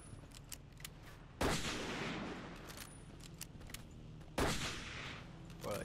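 Gunfire in the WWII shooter Battlefield 1942 on the Kharkov map: two loud, sharp shots with long decaying echoes, a few seconds apart, over faint clicks and ambient noise.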